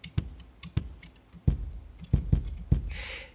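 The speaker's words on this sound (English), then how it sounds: "here we have some wooden board hits which sound like a kick drum" Dull, thumping wooden knocks with a deep kick-drum-like punch, struck in an uneven rhythm of about eight hits, close and fairly loud.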